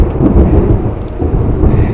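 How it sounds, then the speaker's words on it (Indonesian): Thunder from a storm rolls as a loud, deep, continuous rumble filling the whole two seconds, close and heavy, with no voices over it. "Itu petir ya guys."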